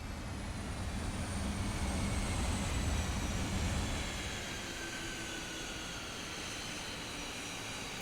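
An F-5E jet in the DCS combat flight simulator roars with a broad, steady engine rush, loud at first and then easing to a lower, continuous whine with a faint high-pitched tone.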